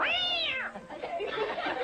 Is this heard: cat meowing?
yes